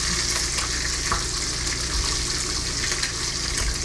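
Great Value hickory smoked bacon frying in a pan, a steady dense sizzle and crackle with small pops, continuous and close throughout.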